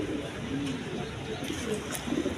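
Pigeons kept for sale coo in low, rolling murmurs over a dense, noisy background, several birds nearby.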